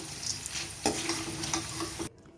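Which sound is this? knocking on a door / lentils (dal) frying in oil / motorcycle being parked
lentils (dal) frying in oil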